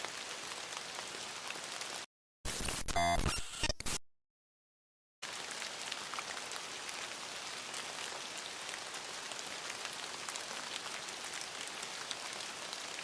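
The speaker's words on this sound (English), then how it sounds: "the relentless rain drumming on the car's roof like a foreboding symphony" Heavy rain drums steadily on a car roof at night, a dense, constant hiss broken briefly by a short burst of another noise and a moment of silence before the downpour resumes.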